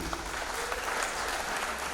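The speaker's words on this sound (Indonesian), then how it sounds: "Beri tepuk tangan sekali lagi" Steady applause from an audience at a church gathering in Simpang Raya, dense clapping filling the whole stretch at a moderate, even level with no voices rising above it.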